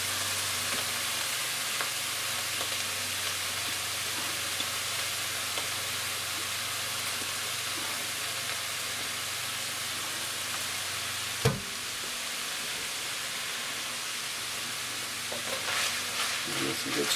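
Chopped onions sizzling steadily in a hot pan while being prepared for a lasagna, a continuous close frying hiss with a single sharp knock near the end and scraping stirs toward the close.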